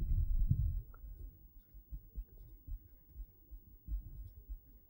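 A pen or marker scratches across a board or paper as a chemistry example is drawn by hand, soft irregular strokes close by in an otherwise quiet room.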